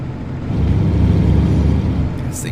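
Truck engine driving in Euro Truck Simulator 2 on the Iberia map, a steady low rumbling drone with a constant whir that rises slightly and holds, loud and continuous throughout.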